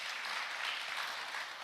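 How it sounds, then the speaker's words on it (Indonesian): A church congregation applauds at a worship service, a dense, even wash of clapping from many hands throughout, with no speech over it. "Yang setuju kasih tepuk tangan dulu buat Tuhan Yesus."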